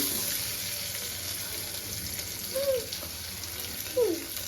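Onions fry in a pan with a steady, moderate sizzle, and a couple of brief scraping stirs break through the background hiss.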